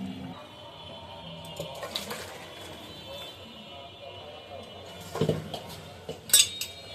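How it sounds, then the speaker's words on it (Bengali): A pot of curry is lifted off the stove amid clinks and knocks of metal cookware, with a few sharper clanks toward the end and a voice heard speaking softly in the background. "এবার আমি তরকারিটা নামিয়ে নেব"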